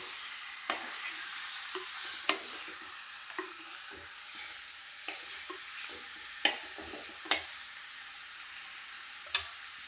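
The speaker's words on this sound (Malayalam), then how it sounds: "ഇത് നമ്മൾ മെല്ലെ ഉടയാതെ മെല്ലെ ഇളക്കി കൊടുക്കണം, അല്ലെങ്കിൽ ചട്ടി പിടിച്ച് കുടഞ്ഞാൽ മതി." Fish curry stirred in a clay pot gives a steady close sizzle with soft scraping strokes and several sharp clicks of the spoon against the pot, with no voices.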